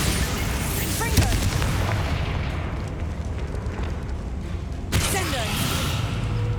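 Confringo and Bombarda spell blasts in the Hogwarts Legacy game: a constant roaring, booming rumble with two sharper bursts, the first at about one second and a louder one near five seconds, beneath it all.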